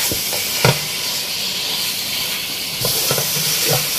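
Chicken fried with biryani masala for Bombay biryani gives off a loud, dense, continuous sizzle and steamy hiss, punctuated by a few sharp stirring knocks from a utensil against the pot.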